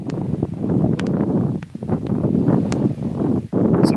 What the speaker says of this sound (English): I mean, it's a little windy.